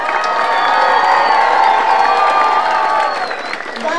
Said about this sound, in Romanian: Ion Basoc și Oleg Crețun, să-i aplaudăm